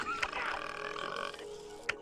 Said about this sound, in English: that burp was disgusting